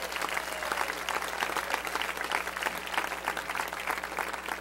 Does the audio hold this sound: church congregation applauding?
yes